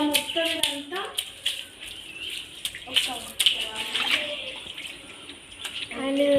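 Water runs and splashes from a tap at an outdoor washroom with a wash basin. The flow is fairly close and choppy, and a person talks over it throughout.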